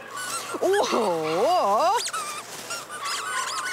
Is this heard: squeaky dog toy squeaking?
yes